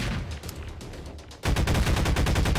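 Gunfire in Garry's Mod: a quieter patter of shots gives way to loud, rapid automatic bursts, evenly spaced and close.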